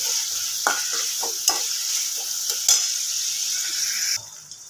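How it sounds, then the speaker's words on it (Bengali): Chopped onion frying in plenty of oil in a pan, a continuous bright sizzle with occasional stirring scrapes and clinks, close and steady before cutting off near the end. "ওর মধ্যে আমি পেঁয়াজ কুচি দিয়ে দেবো ভালো করে ভেজে নেব"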